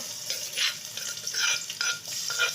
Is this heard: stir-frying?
yes